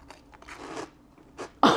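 A close, loud crunch as someone bites into a crispy Korean peanut snack, with a few softer chewing crackles before it.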